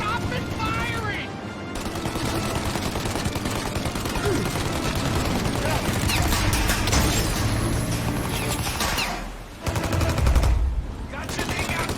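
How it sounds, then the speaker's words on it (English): Sustained gunfire in the Mafia: Definitive Edition video game, a dense rattle of shots running nearly the whole stretch with a brief drop near the end before the firing resumes, loud and close amid busy game sound. "Shoot the gun! Now, Tommy! While they reload! Stop it firing!"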